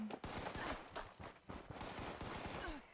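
Rapid gunfire in the video game Fallout 76 as players shoot at a sign during low-level PvP combat, a dense, continuous rattle of shots that stays loud and steady throughout.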